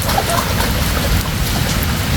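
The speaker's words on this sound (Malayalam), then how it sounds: "നല്ല മഴയുണ്ട്." Heavy rain pours down at a sandy beach where the sea meets a backwater, making a loud, steady hiss of drops that fills the whole stretch without a break.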